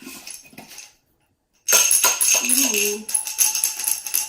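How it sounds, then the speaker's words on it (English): A few very small rocks rattle inside a glass jar shaker, shaken gently in a quick burst of bright, gritty clatter after a brief silence, close and fairly loud, with a short vocal exclamation at the start. "Let's try my glass jar. I am going to put a little couple rocks in here, very small rocks, not going to shake it very hard."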